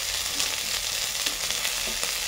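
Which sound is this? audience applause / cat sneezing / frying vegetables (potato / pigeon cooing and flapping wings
frying vegetables (potato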